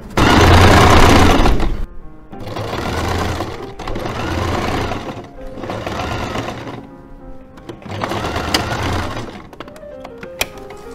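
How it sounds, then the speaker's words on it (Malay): A sewing machine stitches a kebaya in several loud, close bursts of rapid needle rattle, each lasting about a second or two, separated by short pauses and small handling clicks. "Dan kita jahitkan mesin dekat sini."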